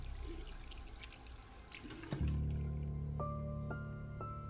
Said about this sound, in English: There was a familiar squeak, the sound of the faucet turning.